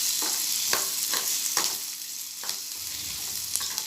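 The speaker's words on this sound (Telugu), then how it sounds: "ఆనియన్స్, కరివేపాకు వేసుకొని ఇప్పుడు ఫ్రై చేసుకుంటున్నాము" Onions and curry leaves frying in hot oil with a constant sizzle, broken by a few scraping stirs of a spoon in the pan.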